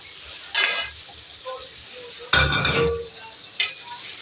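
Chicken liver with tomatoes and green chillies cooking in a pan: three separate bursts of spatula scraping and clinking, one near the start, a longer one in the middle and a short one at the end, over a faint, steady background hiss.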